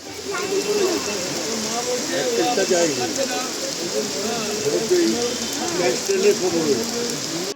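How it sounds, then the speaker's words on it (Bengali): Steady, dense rain hiss fills the clip, with voices murmuring underneath throughout. "এত জোরে বৃষ্টি হচ্ছে যে ছাতাগুলো মেলে ধরতে হচ্ছে সামনে"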